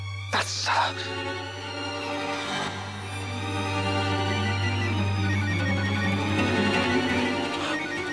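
A phone ringtone plays a steady electronic melody, close and moderately loud, over a constant low hum.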